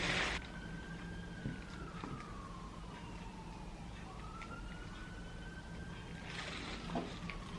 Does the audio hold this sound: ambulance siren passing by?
yes